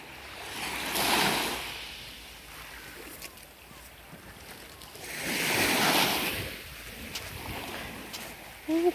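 Black Sea waves wash in and recede twice on a beach at Sinop, Turkey, slow swelling surges of surf with a breezy background between them.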